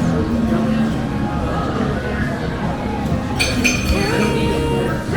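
Beer glasses clinking together in a toast at Woodstock Brewing on a rainy day, a brief bright clink near the end amid steady bar hubbub and chatter.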